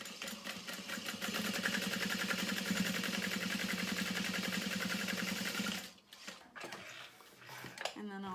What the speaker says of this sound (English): you're going to sew through that seam allowance